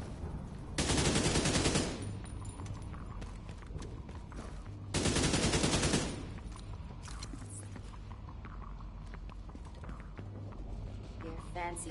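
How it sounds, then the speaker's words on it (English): Automatic turret fire in The Division 2 rattles off in two loud, dense bursts of about a second each, separated by quieter game noise and scattered clatter. "Let my turret do some work."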